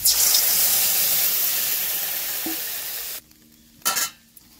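Water poured into a hot cooking pan bursts into a loud, hissing sizzle that fills the first three seconds and then cuts off abruptly. A short, faint splash and hiss follow near the end.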